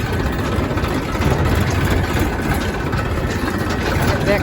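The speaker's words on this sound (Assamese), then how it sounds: "ট্ৰেক্টৰত গৈ আছোঁ" A tractor engine runs at a steady low rumble while the vehicle travels along a road where work is going on. The engine is loud and close, with no talk heard over it.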